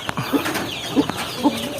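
Hens cluck softly in a few short, low calls, spaced out over a faint outdoor background.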